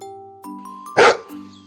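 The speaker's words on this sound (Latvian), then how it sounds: "Suns saka vau," A dog gives a single short bark over a sustained tonal musical background, close and fairly loud, standing out briefly mid-clip.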